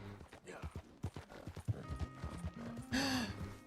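Rhythmic clip-clop of horse hooves with a brief whinny near the end in the game Front Mission 1st: Remake, a game-like soundscape with a voice talking over it.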